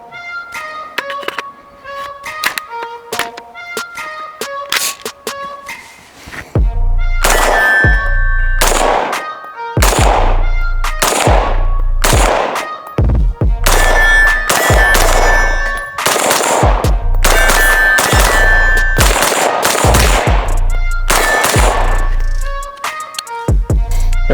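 A suppressed Sabre AR-15 rifle fed from standard low-capacity magazines fires in rapid bursts and strings of shots, loud and close, with brief quiet gaps and ringing tones between volleys.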